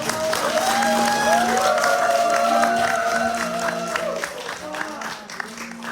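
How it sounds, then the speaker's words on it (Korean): An audience applauds at a traditional Mongolian folk performance at a ger camp in Terelj, clapping and some cheering running under sustained musical tones and voices, fading near the end. "박수 박수"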